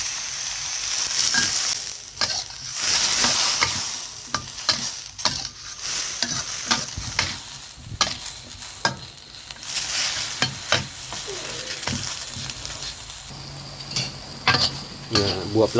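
Sponge gourd (luffa) stir-fried with egg in a wok with a splash of water: a continuous loud sizzle broken by frequent sharp clacks and scrapes of the spatula stirring, close and busy throughout.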